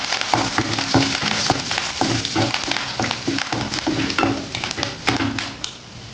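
Red chillies, turmeric and curry leaves frying in oil for aloo stuffed idli, a steady, crackling sizzle broken by frequent small taps and pops as the pan is stirred, fading slightly at the end.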